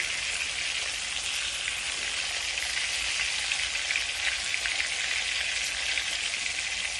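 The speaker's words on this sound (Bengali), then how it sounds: "প্রথমে আমি মাথার নিচের সাইডটাই ফ্রাই করতে দিলাম" A fish, head side down, fries in a pan with a dense, continuous hissing sizzle like steady rain, fairly loud and unbroken, no one talking.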